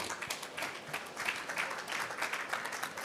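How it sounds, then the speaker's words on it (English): Light, fairly faint audience clapping greets panelists walking onto the stage at a COP29 session on carbon farming, a short patter of hands with no voices over it. "Give them a round of applause."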